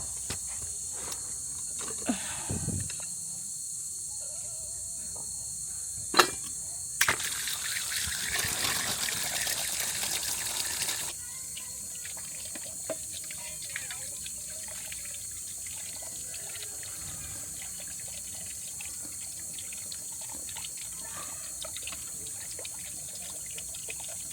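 At an outdoor campsite washing area with four faucets, a tap runs with a steady hiss and trickle of water, strongest in a louder burst early on before settling into a quieter, continuous flow.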